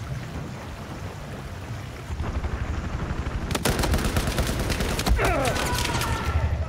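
Rapid gunfire from the video game Battlefield 4, with dense bursts of shots rising out of a steady background rumble and growing louder and busier partway through.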